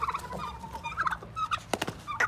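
Turkey on a farm gobbling, a loud nearby burst of rapid warbling calls in irregular bursts with no voices over it.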